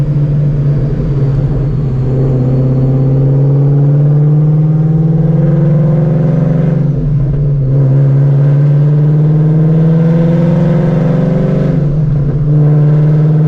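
A 900HP Shelby GT350 with a new clutch accelerating hard at wide open throttle, its engine roaring loud and close with a steadily rising pitch, then a brief dip and another rising pull, sustained throughout.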